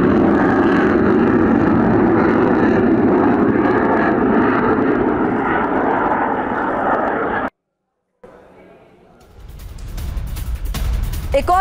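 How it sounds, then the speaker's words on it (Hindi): A Russian Su-25 jet flies over Ukraine with a loud, continuous roar of engine noise that holds steady for several seconds, cuts out abruptly, then returns as a rising rumble and whine. "रूसी सुखोई 25 ने यूक्रेन के आसमान में किस तरीके से भरी उड़ान"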